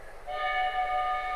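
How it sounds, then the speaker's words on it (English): A steam train sounds a sustained, steady whistle as it arrives at a station in the game Sherlock Holmes: Crimes and Punishments, rising in after a low rumble and holding loud to the end. "The train is arriving at the station."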